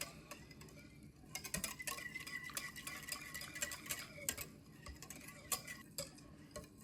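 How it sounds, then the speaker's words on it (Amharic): Milk being beaten and stirred in a bowl for homemade yogurt, quiet rapid clinking and scraping of a utensil against the container in an uneven rhythm, close but faint, with no voices. "በደንብ ስንመታው ይዋሃዳል ማለት ነው።"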